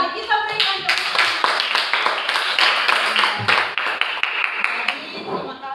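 A classroom of students claps hands together in a close, bright burst of individual claps that runs steadily for several seconds before trailing off, with some voices mixed in.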